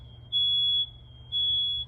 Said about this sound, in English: If you heard the beeping, it was my daughter lighting a candle. So our fire alarms work.